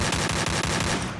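Rapid video game gunfire crackles in loud, evenly spaced automatic bursts, close and dense, with no voices.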